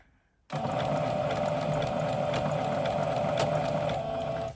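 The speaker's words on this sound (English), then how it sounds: "we're just going to do a quick back stitch here and then stitch off the end" A domestic sewing machine back stitching a raglan T-shirt seam starts abruptly and runs at a steady, even hum with a fast mechanical chatter. Loud and close, stopping at the end.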